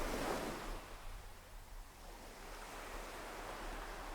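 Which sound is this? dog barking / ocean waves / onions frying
ocean waves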